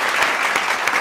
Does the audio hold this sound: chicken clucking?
no